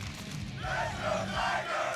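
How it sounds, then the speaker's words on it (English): A crowd at a Guilty Gear Strive fighting game tournament chants "Let's go Tiger" in a steady, rhythmic group roar that swells and repeats, loud and close, with no other voices over it. "Let's Go Tiger has come back in to replace it"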